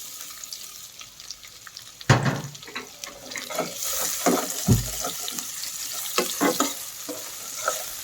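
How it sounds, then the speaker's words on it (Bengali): Two onions and four green chillies hit hot oil in a pan for a Bengali pabda fish curry, setting off a sharp sizzle followed by continuous frying hiss and intermittent stirring scrapes and clatters. "এখন তেলে দিয়ে দিলাম 2টা পেঁয়াজ আর 4টা কাঁচামরিচ"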